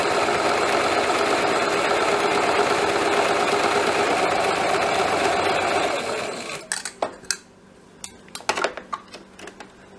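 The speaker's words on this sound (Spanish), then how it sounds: "Estamos cosiendo el ruedito de la manga." A sewing machine runs steadily while stitching the narrow hem of a shirt sleeve, a continuous fast whirring drone that stops partway through, followed by a few sharp clicks and clatters of handling.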